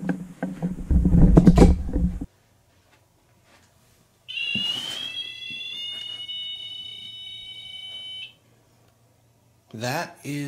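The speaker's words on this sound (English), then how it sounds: "That is the REM pod going off in the corner of the room." A REM pod ghost-hunting device goes off in the corner of a room with a steady electronic alarm tone lasting several seconds. Loud talk comes before it, and a voice breaks in briefly at the end.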